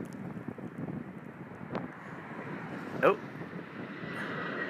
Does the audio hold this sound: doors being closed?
no